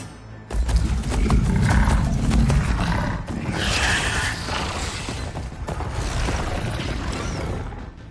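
Riders on mechanical beast mounts move in Horizon Forbidden West, a continuous loud rumble of grinding, creaking machinery mixed with growling roars and heavy movement.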